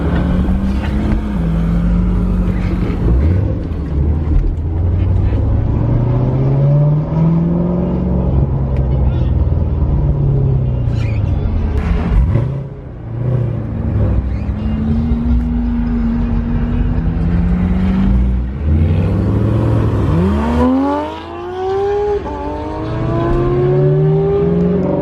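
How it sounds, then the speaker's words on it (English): A Porsche GT3 sports car revs and pulls away from a car meet, loud nearby engine blips and rising, falling revving sweeps repeated several times, with a final strong acceleration, and people talking faintly underneath. "GT3 is going out too"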